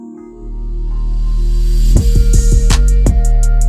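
Reversed crash cymbal and 808 bass faded in as a riser, a low sustained boom swelling under a hissing wash that builds steadily, then punchy rhythmic hits arrive near the end, loud and without talk.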